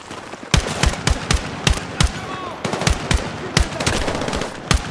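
Gunfire from the video game Battlefield 6 rings out in rapid bursts of sharp, loud shots in quick succession, with a few brief pauses between bursts.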